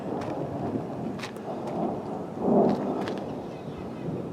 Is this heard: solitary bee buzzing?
no